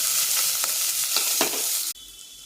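Steady, loud sizzling of chopped shallots frying in hot oil for mutton chukka, with a few scraping stirs, then the sizzle abruptly quiets near the end.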